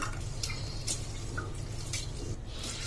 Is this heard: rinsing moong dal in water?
yes